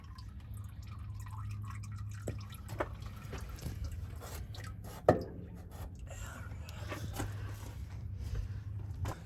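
Oil drains and drips from a tractor engine's drain plug, slow scattered droplets falling against a low steady hum, with one sharper splat midway.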